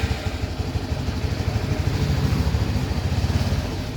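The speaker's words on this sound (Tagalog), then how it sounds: "kapag naka-neutral kasi yan is hindi aabanti yung motor kapag in-start natin" Motorcycle engine started in neutral while parked on its stand, settling into a steady low idle that runs throughout with a slight swell in loudness midway, close and alone.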